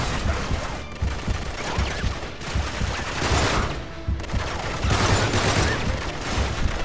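Sustained gunfire from the video game Uncharted 3, with dense rapid automatic bursts and overlapping shots rolling on loudly without a break for several seconds.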